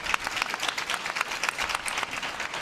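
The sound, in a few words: Team China applauding their leader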